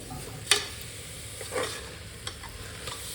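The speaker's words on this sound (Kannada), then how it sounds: "ಸ್ವಲ್ಪ ಅಕ್ಕಿ ತೊಳೆದು ನಾನಿಲ್ಲಿ ಆ್ಯಡ್ ಮಾಡ್ತಾಯಿದ್ದೀನಿ" Washed rice tipped into a hot oiled pan for kushka rice gives a soft, steady sizzle with a few sharper scraping stirs near and in quiet, no talk.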